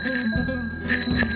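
A rusted bell on an electric bicycle rings with bright, sustained metallic tones, struck twice in quick succession, close and clear.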